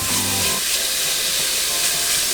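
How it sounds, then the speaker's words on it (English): Bacon sizzles in a preheated pot with no added oil, a loud, steady frying hiss that carries on unbroken and is heard close up. "first we're going to start by putting in our bacon"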